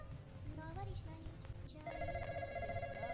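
A telephone rings in a Roblox New Year's horror game, its repeating bell tones entering partway through and sounding steadily over a low background rumble while children chatter nearby.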